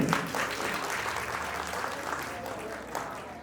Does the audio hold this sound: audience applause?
yes